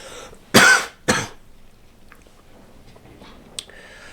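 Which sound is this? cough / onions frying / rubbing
cough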